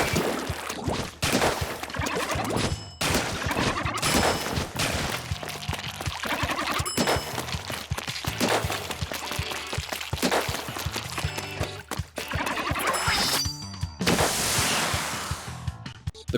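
Splat Roller from Splatoon 2 rolling and splatting ink, with dense wet splashing, sloshes and sharp bursts continuing loudly throughout alongside busy game effects.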